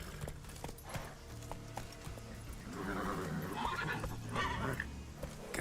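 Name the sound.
horse Roach neighing, video game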